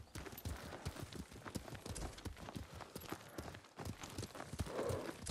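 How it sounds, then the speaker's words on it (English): Horse hooves clip-clop at a steady riding gait in the video game Ghost of Tsushima, a dense run of hollow thuds that stays close and fairly loud throughout, with no speech over it. "I love how the other horse rides at the same speed as you do."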